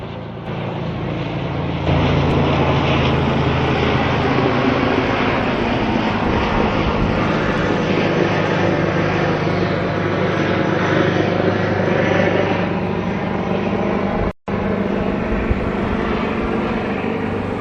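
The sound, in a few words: helicopter flying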